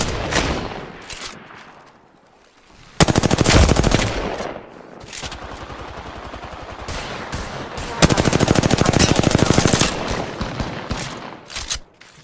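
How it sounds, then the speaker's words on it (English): Heavy video game gunfire in a ranked shooter match, with dense automatic bursts rattling loudly in long stretches, a brief lull, then another sustained volley near the end. "They're shooting at me?"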